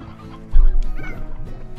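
Hens cluck in the farming video game Slime Rancher, with a short burst of loud, close, warbling clucks rising and falling over under two seconds.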